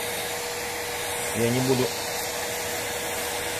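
A corded mains vacuum cleaner pulls a loose rug and leaves into its nozzle, giving a steady, close, breathy motor roar throughout, with someone briefly speaking in the middle.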